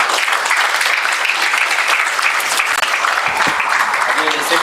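Audience applause at a civil services day award event of an IAS academy, greeting the second prize winner: steady, dense clapping from a crowd filling the whole stretch, loud and continuous.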